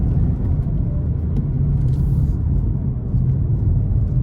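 BMW 220d F22 coupe driving, a loud low diesel engine rumble heard from inside the cabin, steady and droning with mild rises in pitch.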